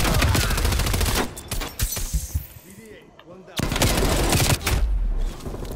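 Rapid automatic gunfire in a Hardpoint match of the apocalypse game mode, loud dense bursts that stop briefly in the middle and then resume just as heavily.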